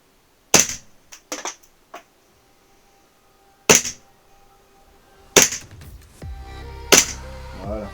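Airsoft TTI Sand Viper sniper rifle, a Jag Precision/Army gas-charged model, fired at a chronograph and a target: four sharp, loud cracks spaced a couple of seconds apart, with smaller clicks and a low hiss after the last shots.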